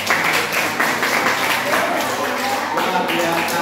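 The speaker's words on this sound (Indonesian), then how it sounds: "Tepuk tangan untuk Nabil ya" Classroom applause for a student named Nabil, a steady wash of clapping from a group of students filling the whole moment at close range, with no words spoken over it.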